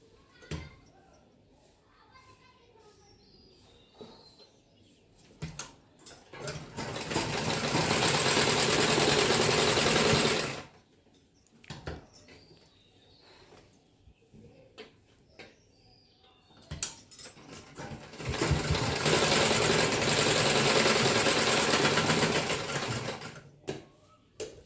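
Sewing machine stitching a blouse, two long steady runs of close, loud mechanical whirring separated by quiet gaps with small handling clicks and brief speech.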